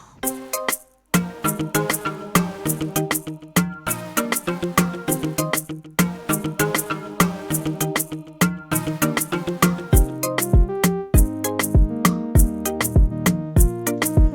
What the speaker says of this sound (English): let's listen to our intro with our percussion, with our choir sound and marimba and mute guitar